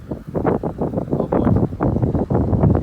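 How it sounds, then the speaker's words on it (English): Strong wind gusts across the sand at South Beach, Florida, buffeting the microphone with loud, continuous rumbling bursts for a few seconds; no one speaks. "It is super windy."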